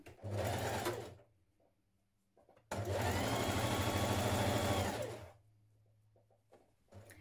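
Sewing machine stitching the underarm seam of a sweater, two bursts of steady whirring, a short one and a longer run, close with quiet pauses between.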